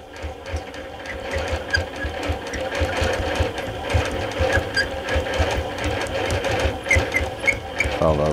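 Sewing machine stitching in the ditch along a ruler while quilting with invisible thread, a steady fast rhythmic whirring of the needle running continuously at close range with a brief change near the end.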